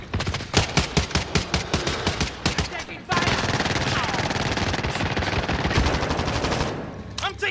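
Rapid automatic gunfire in a video game crackles in loud bursts, then merges into a dense sustained barrage before tapering off.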